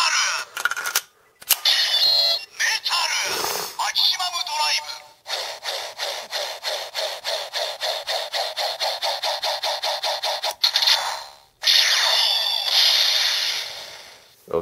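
A DX Double Driver transformation toy plays its electronic effects: harsh whooshing bursts, a long run of rapid repeating pulses, then a loud smacking hit, all close and loud.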